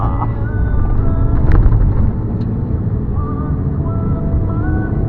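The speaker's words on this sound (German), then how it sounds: "der Bus, der gerade hier vorbei" A heavy vehicle rumbles past with a low, steady engine drone that swells briefly then eases, with faint music-like tones above.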